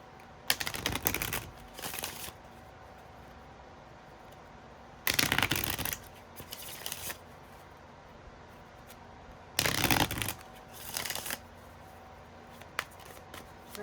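A deck of cards shuffled close up in three separate loud riffling bursts a few seconds apart, with quieter handling and tapping between them.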